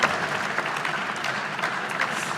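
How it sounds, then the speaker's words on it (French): Applause at an innovation showcase final, a steady crowd of hands clapping together at even strength for a couple of seconds, with no talk over it. "il faut applaudir surtout l'équipe Fluidion"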